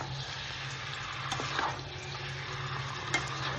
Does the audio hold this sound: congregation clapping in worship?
no